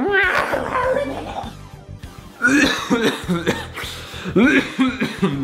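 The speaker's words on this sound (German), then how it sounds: "Hustenanfall des Todes." A run of harsh, repeated coughs in two bursts, close and loud, with a short pause between them and some throat-clearing sounds.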